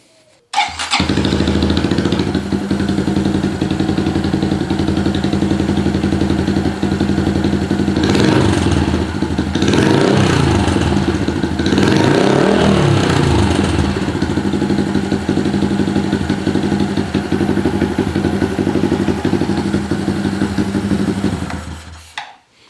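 A Honda Dax 125 with an MNNTHBX stainless steel exhaust idles steadily and close by, a deep, even burble that holds for about twenty seconds before cutting off, with a brief rise in revs midway.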